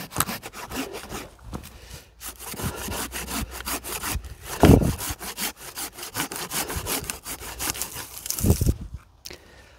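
A tree branch is cut shorter with a hand pruning saw during pruning, giving steady rhythmic back-and-forth rasping strokes close by, with a few heavier strokes and a brief pause near the end.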